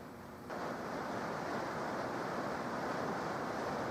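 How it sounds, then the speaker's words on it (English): Heavy monsoon rain pounding a shop's tin roof, a dense, steady, hissing roar that swells slightly after the first half second and then holds at a constant level. "This shop has a tin roof and we're getting a monsoon."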